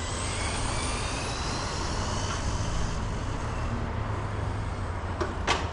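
A Team Associated SR10M ready-to-run RC stock car drives on a dusty dirt oval, giving a steady, loud broadband motor and tire roar throughout, with a brief sharper burst near the end.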